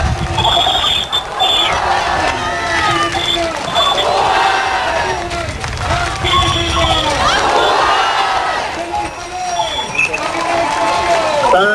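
A huge outdoor crowd at Luneta in Manila chants and shouts "Mabuhay Pilipino" in rolling waves, loud and dense from a distance, with a voice speaking over it.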